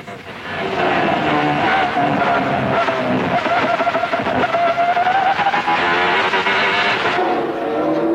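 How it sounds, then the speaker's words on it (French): Onboard engine of Riccardo Patrese's Williams Renault Formula 1 car at the 1989 Brazilian Grand Prix, a loud close high-pitched engine scream rising and dropping through gear changes, running steadily for several seconds with no voices. "Vous êtes à bord de la Williams Renault de Patrese."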